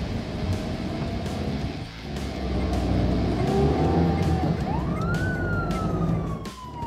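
A police car siren wails behind a speeding car's engine, its sweeping tone rising and falling loudly amid traffic noise and rushing motor roar, with no voices over it.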